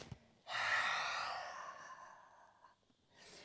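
A long, deep breath exhaled during a guided yoga breathing exercise, a broad breathy rush lasting about two seconds that slowly fades, followed by a brief softer breath, close and alone without talk.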